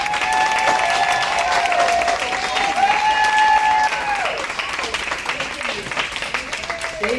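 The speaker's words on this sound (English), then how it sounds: "So let's give a nice round of applause to my good friend, Sharon Middleton." Audience applause at a Trail Blazer Awards ceremony for Women's History Month, a steady dense clapping that holds loud for several seconds under tonal music or voices, then thins out toward the end.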